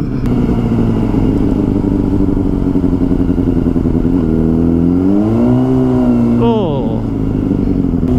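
A motorcycle engine runs steadily and loudly, rising and falling in pitch as it revs near the end, with a voice heard over the engine.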